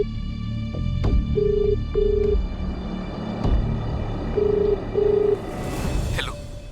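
A telephone rings four times in two pairs of short steady tones, a ringback on an outgoing call, fairly loud over a low background hum.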